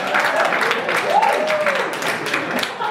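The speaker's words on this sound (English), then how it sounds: "So round of applause to yourself." Audience at a sales and revenue leaders event applauding, a moderate wash of clapping heard beneath and alongside a talking voice, steady across the moment.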